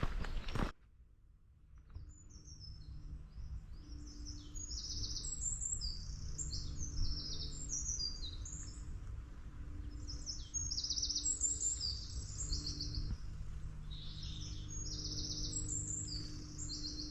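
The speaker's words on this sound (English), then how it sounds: "There's quite a lot of blue tits and goldfinches and sparrows." Small songbirds such as blue tits, goldfinches and sparrows chirp and twitter continuously at a moderate distance along a hiking trail on the West Highland Way in Scotland, over a steady outdoor rumble after a brief thump at the start.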